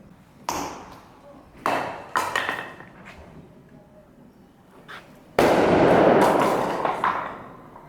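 A Granada Volcano CO2 firework going off outdoors: a run of sharp cracks and pops, then a loud sustained roaring burst of sparks that holds for a couple of seconds before fading.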